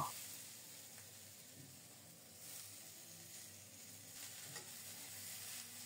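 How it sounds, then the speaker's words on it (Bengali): Shredded cabbage fries over medium heat in a pan, a steady soft sizzle running throughout with a few faint scrapes of stirring, fairly quiet and close, with no voices. "শুধু নেড়ে চেড়ে চুলার তাপটা মিডিয়াম রেখে খুব সুন্দর মতো বাঁধাকপিটাও ভেজে নেব"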